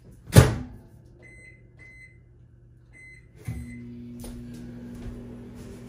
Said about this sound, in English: I'm just going to preheat my water over here in the microwave.